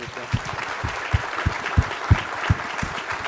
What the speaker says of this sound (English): Let's give a round of applause for the panelists.